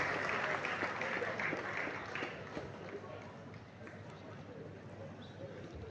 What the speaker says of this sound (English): please can we give a round of applause for the president of our great institution